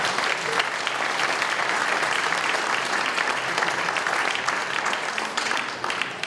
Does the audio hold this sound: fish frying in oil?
no